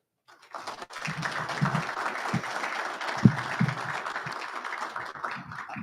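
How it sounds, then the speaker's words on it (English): A room full of people applauds steadily at the 2023 Marine Corps Association Wounded Warrior Leadership Awards ceremony. The dense, even clapping starts abruptly and carries on for about five seconds. "I haven't even done anything yet, and I get an applause"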